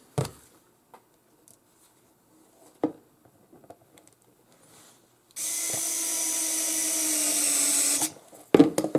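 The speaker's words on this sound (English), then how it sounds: "I'm using this tiny screwdriver to secure it." A tiny screwdriver secures a part inside a kayak fishfinder battery box, giving one steady whirring run of about three seconds, close and fairly loud, amid scattered small clicks and taps.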